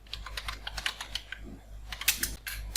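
Computer keyboard typing in an MS Word document, quick irregular keystrokes clicking close up and alone with no talk, a few louder taps standing out near the end.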